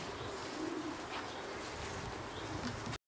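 Homing pigeons cooing at the loft on arrival during a race, soft low coos over a steady outdoor background hum, faint and close-ish, without talk, ending in a brief cut.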